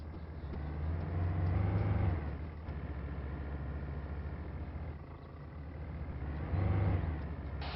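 A car drives in Arma 3 on the Altis map, its engine a steady low hum that swells twice as it accelerates, with no talking.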